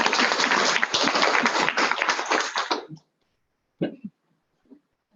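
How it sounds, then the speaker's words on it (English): Audience applause in a hall during a foundation day event, a dense burst of clapping for about three seconds that stops abruptly, followed by a few scattered sounds. "I think we can clap a little louder"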